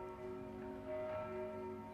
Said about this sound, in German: Heute ist Sonntag, wie? Die Glocken klängen friedlich